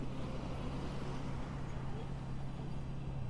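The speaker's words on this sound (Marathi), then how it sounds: "खूप सारी ट्रॅफिक आहे." Dense road traffic noise on a jammed road en route to a motoring event, a steady low engine rumble and hum from nearby vehicles running continuously without breaks.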